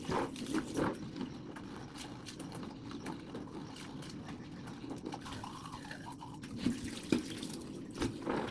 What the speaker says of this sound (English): So after I brush my teeth and wash my face